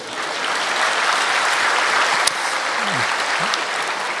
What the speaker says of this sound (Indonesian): Kita berikan tepuk tangan dulu ya.